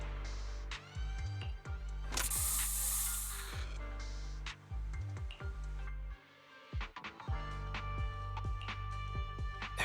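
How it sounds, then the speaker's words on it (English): A short, sharp burst of spray hiss from a special bamboo spray used by the Bamboo Boonappers in Zenless Zone Zero, heard briefly over loud, rhythmic game music. "Here, have a taste of this special bamboo spray."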